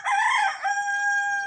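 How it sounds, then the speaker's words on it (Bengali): A rooster crows once, close and loud, in a Bangladeshi village, a bright, strained call that holds its pitch and then trails off, with nothing else heard around it. "মুরুগ হাঁস আছে, একটা মুরগা।"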